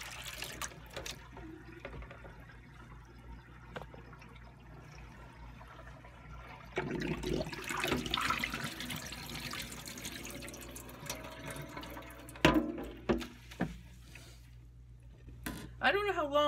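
Running water gushes and splashes as dyed cotton tea towels are rinsed under a tap, growing louder midway, with wet handling sounds and clunks near the end, and a person speaking at times.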